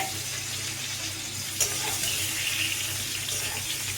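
Mushroom pieces frying in hot oil for a cauliflower mushroom curry, a steady hiss and crackle with a brief sharper sizzle burst as they hit the pan, no voices.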